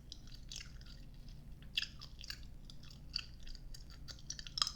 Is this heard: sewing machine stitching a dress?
no